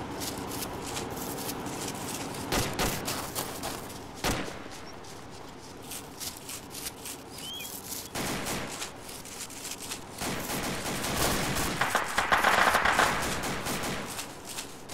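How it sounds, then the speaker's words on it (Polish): Enemy sniper fire and gunfire in a video game: several sharp, separate shots and short bursts crack out over a low, steady background rumble, with no one talking. "Uwaga, to mógł być strzał snajperski jakiś wrogi"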